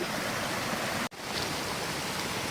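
A channel of water spills down over rocks toward the main stream just below Pha Eiang waterfall, a steady close hiss of flowing water that briefly cuts out for an instant partway through.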